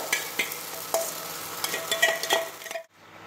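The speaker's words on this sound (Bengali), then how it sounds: "মশলাটা ভালো করে কষিয়ে নিচ্ছি" Spices and spinach paste sizzle in a pan while a utensil scrapes and stirs in irregular strokes, close up, before the sound cuts off abruptly.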